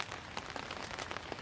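Steady rain pattering on a tent and its rain fly in the woods, a dense, even hiss of drops with small scattered taps close by, no voices.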